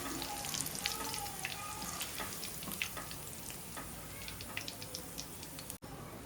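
Kumbhniya bhajiya fritters frying in hot oil, a steady soft sizzle with scattered bubbling pops and crackles throughout, close and fairly quiet, with a brief utensil clink near the end.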